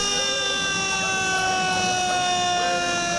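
Loud wailing siren from a 1950s fire truck in a Saint-Jean-Baptiste parade in Embrun, a sustained steady tone filling the whole stretch close by, with crowd murmur underneath.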